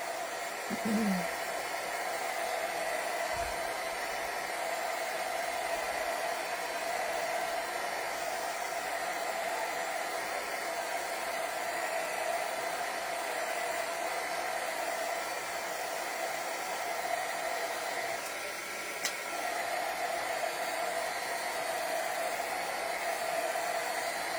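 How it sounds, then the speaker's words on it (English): A hair dryer blows steadily to dry glue on a craft piece, a loud continuous whooshing drone running unbroken throughout with only a faint knock partway through. "We're going to dry this glue on here."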